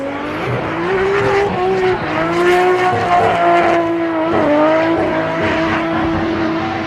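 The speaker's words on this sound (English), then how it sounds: "here we go with Katsuhiro Meguro doing the parade lap" A drift car on a parade lap at a Formula Drift Japan round, its engine loud and close as it revs up and down in long sweeping pulls, with tires squealing through the turns.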